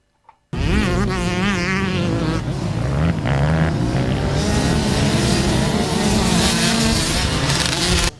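Motorcycles racing in a Ukrainian cross-country championship, a loud continuous buzz of revving engines that starts abruptly after a brief silence and holds steady, with whining pitch swings as bikes accelerate nearby.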